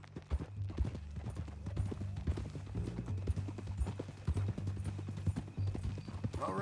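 Steady clip-clop of horse hooves in an even walking rhythm in the video game Red Dead Redemption II, close and clear, with a low engine-like hum underneath.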